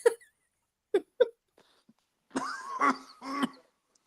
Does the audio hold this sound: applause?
no